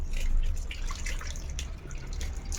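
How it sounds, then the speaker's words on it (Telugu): Whey from fresh homemade paneer drains through a straining cloth in a home kitchen, a steady soft trickle and patter of liquid heard alone at close range. "సరే మధు, ఇప్పుడు మనం వడకట్టేసుకుందామే."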